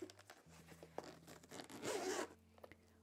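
A zipper on a waterproof ROG Ally console carrying case is pulled in one quick drag, rising to a louder rasp near the end, close up over a low steady hum.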